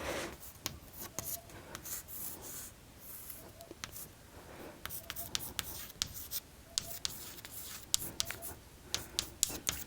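Pen or chalk writing out a chemistry exam question during a lesson, heard as scattered scratchy strokes and taps over a soft rubbing background, close and fairly quiet, with no talking.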